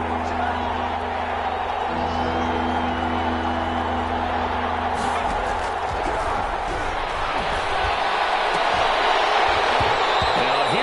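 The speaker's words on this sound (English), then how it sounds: "the crowd getting into it as we come up on a big 3rd" Football stadium crowd at a Packers vs Raiders game roaring steadily ahead of a big third down, a loud continuous wash of cheering that swells toward the end, with a low hum dropping away midway.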